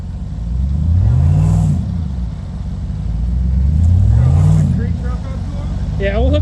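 An engine revs hard in repeated rising surges while its wheels spin, stuck and digging in deeper beside a barn. The roar swells and falls twice, close and loud, and people talk between the bursts.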